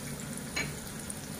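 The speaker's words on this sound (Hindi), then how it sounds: "इसे अच्छे से स्टर कर लेना है, और ये प्याज थोड़ा सा गोल्डन ब्राउन होने के बाद" Onions frying in a pan for a paneer gravy give a steady close sizzle, with one brief scrape of stirring partway through and no talk.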